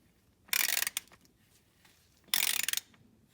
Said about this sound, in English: then I use my ratchet, and then I just give it one full turn